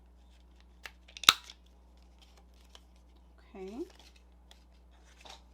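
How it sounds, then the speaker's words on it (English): A hand-held corner rounder punch snaps through a small stack of paper in one sharp close crunch, followed by faint handling rustles and a brief spoken word. "I have a corner rounder. So you want to take and just grab a few pieces at the same time and cut the corners."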